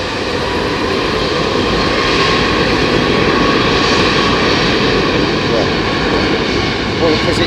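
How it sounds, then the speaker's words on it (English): British Airways A380 airliner at Heathrow, its jet engines giving a loud, continuous broadband roar with a steady hum, close and unbroken throughout. "Thomas Cleary, BA380 on the push, headed to Boston."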